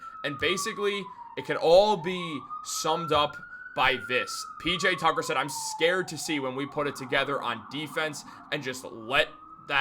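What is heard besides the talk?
siren outside apartment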